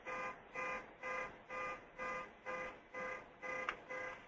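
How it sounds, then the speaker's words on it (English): A car beeping in a parking lot outside a window, a faint, distant electronic tone repeating in about nine even pulses roughly twice a second. "If you hear a beeping in the background, sorry, that's the car out in the parking lot outside my window."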